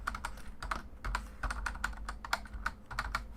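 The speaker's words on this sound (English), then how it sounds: "Now let's type in a new password" Quick, irregular clicks of a computer keyboard as a new password is typed on a Windows Server machine, close and fairly quiet, in short bursts with brief pauses.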